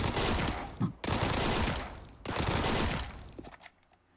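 Rapid video game gunfire from a weapon on test fills the clip with loud, dense bursts of automatic fire, broken by a brief pause near the middle, then tapering off at the end.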